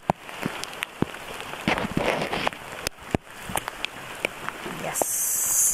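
Heavy rain pours steadily at the Kamp Kaka campsite, a dense hiss with scattered sharper drop taps throughout, while people talk nearby.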